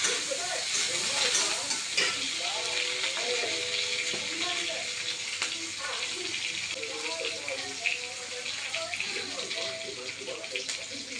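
Vegetables frying and being stirred in a pan during home cooking, a steady sizzle with scraping stirs running throughout, with a voice talking over it at moderate level.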